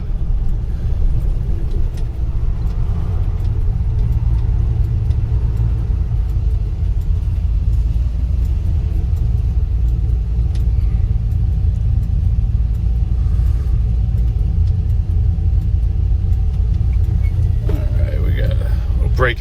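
Chevrolet K20 Suburban with a swapped 5.3 V8 and SM465 manual gearbox rumbling steadily while driving, a continuous low cabin drone with a brief clatter near the end.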